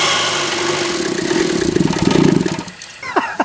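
A daily-driver car with a modified air intake cranks and catches, its engine running steadily with a mid-pitched drone that surges in rough pulses before cutting out abruptly, then a few brief knocks follow near the end.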